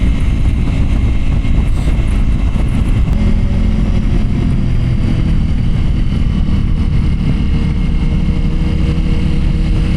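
A BMW M1000RR and a Ducati Pikes Peak motorcycle run hard with a loud, continuous engine roar and heavy wind rush, steady and close throughout.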